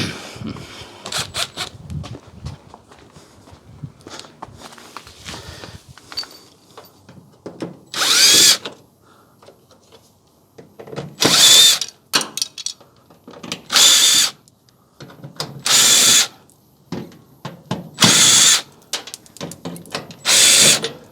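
Cordless power drill backing screws out of the inner shroud of a discarded LG front-load washing machine, in repeated loud bursts of whirring with short clicking pauses and handling clatter between them.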